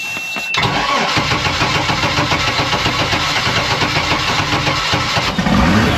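Mercruiser 4.3L boat engine, winterized, cranks and catches after a brief silence, then runs loud and steady close by for several seconds.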